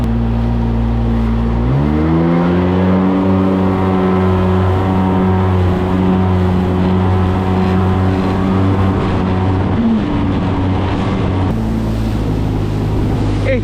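A motorboat engine near the Barú and Rosario islands off Cartagena drones loud and steady, rising in pitch as the throttle opens, with wind and water noise around it.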